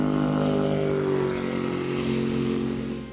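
A Chaparral 257 SSX bow rider runs with its quiet through-hull exhaust, giving a steady low engine drone with a slight pitch dip partway through before it trails off at the end.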